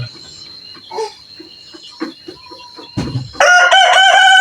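A free-range village chicken (ayam kampung) rooster crows loudly and close at the end, after scattered soft clucks and light background sounds in a farm coop, with no talk.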